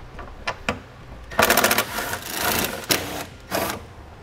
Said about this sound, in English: Now I'm going to use a 10 millimeter socket to remove those.